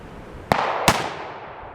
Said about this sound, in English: Now we're ready to shoot. These are the Pyrodex pellets.